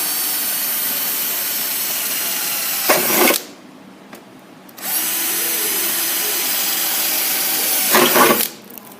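A power drill whirs loudly and close, biting through sheet metal of a toolbox in two long runs separated by a short pause, with no voices.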